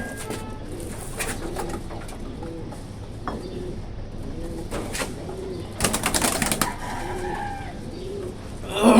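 Pigeons coo in soft repeated calls close by, with a few brief bursts of wing flapping and rustling in the middle and a louder clatter at the end.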